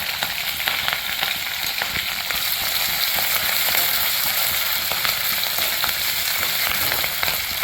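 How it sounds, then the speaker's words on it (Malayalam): Ginger and green chillies frying in oil for a jackfruit pickle, a loud, dense, unbroken crackling sizzle close up with faint occasional stirring ticks and no voices. "ആദ്യം നമുക്ക് ഇഞ്ചിയും പച്ചമുളകും ചേർത്ത് കൊടുക്കാം ഇഞ്ചിയും പച്ചമുളകും ചേർത്ത് കൊടുക്കുന്നുണ്ട്"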